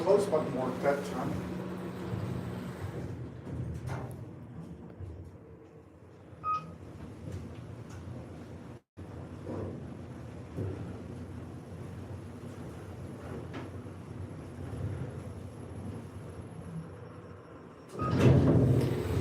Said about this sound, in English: The door close button worked that time.